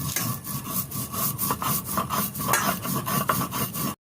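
Salt, turmeric, mustard and green chili are ground into paste on a grinding stone, a rough rhythmic rasping scrape repeating back and forth at a steady pace, loud and close with no talking.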